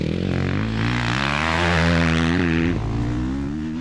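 Big 450cc four-stroke dirt bike ridden on a motocross track at Doncaster Motor Park, engine note rising and falling through gear changes, loud and close with a revving drone and slight pitch sweeps.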